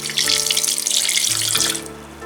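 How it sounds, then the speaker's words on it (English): A steady stream of milk pours into a container, a bright continuous splashing that tapers off near the end. "Pour milk."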